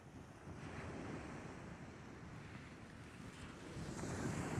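Sea waves wash onto the beach at night beside Cromer pier, a continuous rushing surf mixed with wind buffeting the microphone, growing louder toward the end.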